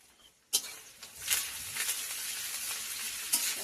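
Bay leaves and curry leaves fry in a hot kadai with a steady, hissing sizzle that bursts in suddenly, flares a few times and holds, close and moderately loud.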